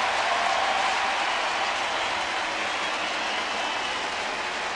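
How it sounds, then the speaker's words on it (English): A stadium crowd at a Milwaukee at St. Louis baseball game gives steady, distant applause, a continuous hissing roar of clapping that holds at an even level with no clear speech. "And this applause is not for Ken Maka"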